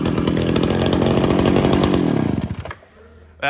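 A John Deere chainsaw roars loudly and steadily up close after being started, then cuts off abruptly near the end, leaving a brief quiet before a short final burst of noise.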